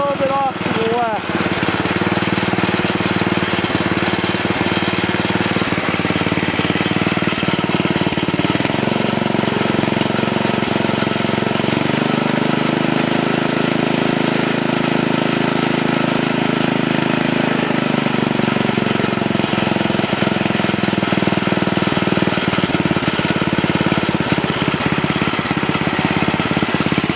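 A 1973 ST10 motorcycle engine runs continuously and loudly nearby with a rough, steady mid-pitched drone that shifts slightly in pitch partway through, with no break.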